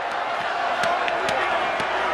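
LDU supporters roaring in a packed Maracanã after the 2008 Libertadores final against Fluminense, a dense, steady stadium crowd with scattered sharp whoops and cries rising above it.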